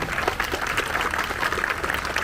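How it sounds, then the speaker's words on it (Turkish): Applause for the bride at a wedding ceremony, a crowd of guests clapping in a dense, lively patter at moderate level for a couple of seconds, with no talk over it. "Gelin hanıma güçlü bir moral alkışı istiyorum."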